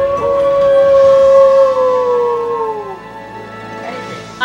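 A dog howling in the game Okami, a loud, clear, long sustained howl that slowly slides downward in pitch and fades out, followed by a quieter tail and a faint sound at the end.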